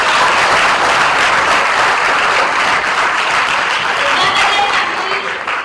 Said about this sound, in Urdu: ان کے لیے تالیاں بجائیے